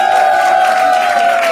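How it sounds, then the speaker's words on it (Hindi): Comedy show audience cheering and clapping at a crowd-work stand-up gig, a steady, loud wash of crowd noise with no talk over it. "एक बार जोरदार तालियां हो जाए दोस्तों"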